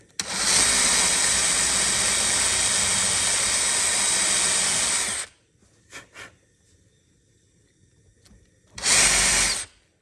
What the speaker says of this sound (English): that's going to tell me where I need to drill that hole